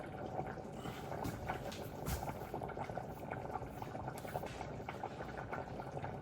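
Ramen broth with ginger boiling in a pot, a continuous close bubbling and rolling roil of liquid with no speech.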